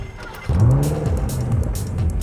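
A Lotus Esprit engine catches and revs under gentle throttle, rising into a strong, close rumble that swells and eases over a couple of seconds.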